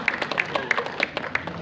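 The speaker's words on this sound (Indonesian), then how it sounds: "Oke, berikan tepuk tangan." Brief scattered clapping from a small audience at a gathering of widows in South Sulawesi, a few light, uneven claps, faint and somewhat distant, lasting just over a second.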